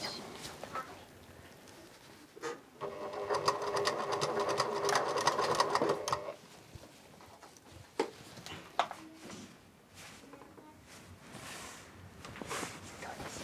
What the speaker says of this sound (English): While they're busy sewing